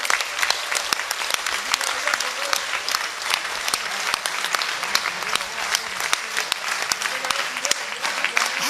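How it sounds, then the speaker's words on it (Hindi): A large crowd at a religious gathering claps hands with arms raised in support, a dense, sustained applause with sharp individual claps standing out throughout, and faint voices underneath. "प्रत्येक व्यक्ति ऊपर हाथ उठाकर तालियां बजा करके इसका समर्थन करे।"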